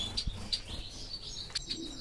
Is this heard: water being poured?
no